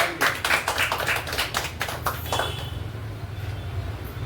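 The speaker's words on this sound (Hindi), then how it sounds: "एक जोरदार ताली दीजिए आप सभी को" An audience at a gathering in Navi Mumbai gives a burst of applause, quick overlapping claps that last about two seconds and then fade into a low, rumbling room murmur.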